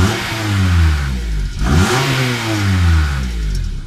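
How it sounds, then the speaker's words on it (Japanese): Honda Odyssey engine with its stock muffler being free-revved while parked, two loud rising-and-falling revs with a brief dip between, heard close up with no talking. "ちょっと空ぶかしで。"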